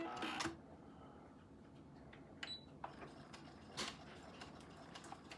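A sewing machine stitches a fabric cow head appliqué for a quilt, giving a faint, steady mechanical whir with soft ticks and a few sharper clicks.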